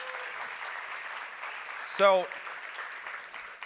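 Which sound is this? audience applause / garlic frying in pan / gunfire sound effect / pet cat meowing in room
audience applause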